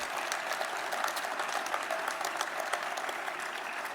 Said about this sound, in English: Please give them a round of applause and thank them as well.